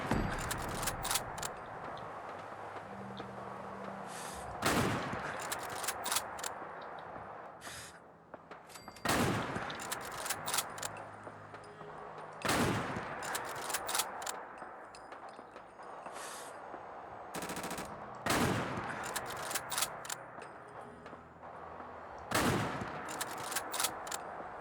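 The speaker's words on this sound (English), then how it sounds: "That flurry of bullets barely did anything to that guy." Sustained minigun fire in Fallout 4, long dense bursts of rapid shots with sharp loud peaks recurring every few seconds, close and continuous with brief pauses between volleys.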